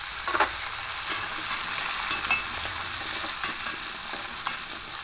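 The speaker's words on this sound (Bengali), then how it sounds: "আলুগুলো দিয়ে একটু লাল লাল করে ভেজে নেব।" Cut potatoes frying in oil in a pan, a steady close sizzle with occasional light stirring clicks and scrapes, no voices.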